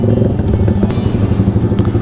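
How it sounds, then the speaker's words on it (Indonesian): Motorcycles rumbling at a seaside seafood eatery on Pulau Sayap in Kedah, a steady close engine drone with small clatters over about two seconds, with no talk. "banyak juga geng-geng motor"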